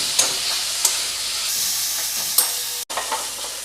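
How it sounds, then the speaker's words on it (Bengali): Kochu shak (taro leaves) fries in a pan with oil and sugar, giving a constant close sizzle with a few sharp scrapes and clacks of a spatula stirring, with no talking. "এইটা আমি ভাজা ভাজা করব।"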